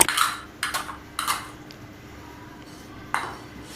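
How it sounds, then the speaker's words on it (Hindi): Metal spoon clinking against a bowl while mixing mutton marinade with two spoons of lemon juice for tikka boti, a few sharp taps and scrapes spaced apart, close and fairly quiet. "इसको अच्छी तरह से अब मिक्स करेंगे"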